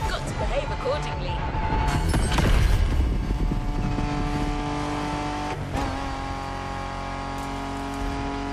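A Porsche 911 drives in the racing game The Crew Motorfest. The engine swells to a louder revving peak early on, then settles into a steady drone while someone talks over it.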